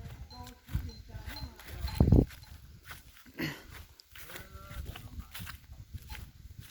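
Cattle or water buffalo low with drawn-out moos among livestock, mixed with shuffling hoof and footstep sounds and people talking nearby, the bursts rising and falling at uneven intervals.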